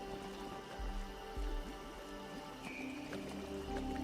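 Rain falling in the video game Fallout 76, a steady wash of patter and drips with low rumbling ambience continuing throughout.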